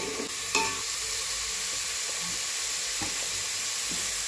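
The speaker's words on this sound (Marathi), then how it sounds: "खोबरं चांगलं भाजू द्यायचं मसाल्यासोबत।" Grated coconut roasts with turmeric and coriander powder in a pan, a steady close sizzle and hiss with occasional scraping stirs, no talking.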